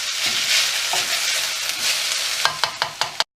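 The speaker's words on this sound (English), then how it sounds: "Again, giving that a good stir." Peri-peri vegetable stir fry sizzles loudly in a pan while being stirred, a close, continuous hiss that ends in a quick series of sharp utensil knocks before cutting off.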